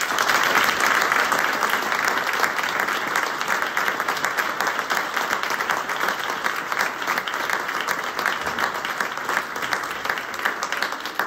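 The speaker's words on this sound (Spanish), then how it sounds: "quisiera para todos estos ausentes y para estos musicazos pedir un aplauso" An audience at a talk breaks into sustained, full-room applause after a request to honor absent people and musicians, a thick continuous wash of clapping from start to finish.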